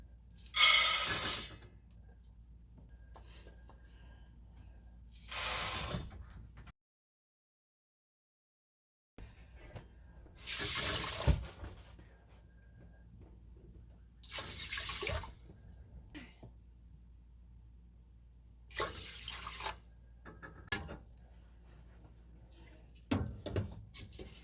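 Tap water running into a big cooking pot for rice, in several separate bursts of hissing flow separated by pauses, close and moderately loud, with one brief silent gap.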